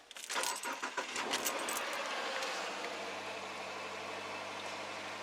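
A 2018 Subaru Forester 2.5i Premium with a boxer engine starts up, keys rattling and a short crank before the engine catches and settles into a steady, even idle, with no talk.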